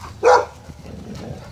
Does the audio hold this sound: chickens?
no